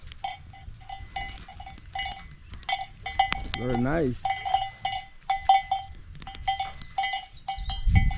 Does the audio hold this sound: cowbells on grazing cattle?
yes